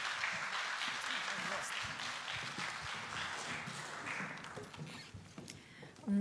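An audience at a rural community parliament in Latvia applauds to welcome a speaker, steady clapping from a crowded hall that rises and thins over several seconds, with voices murmuring underneath and a sharp bump at the very end.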